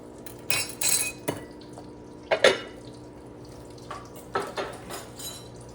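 Dishes, pots and cutlery clatter and clink in scattered bursts close by as kitchen clutter is cleared away, with faint running water underneath and no voices.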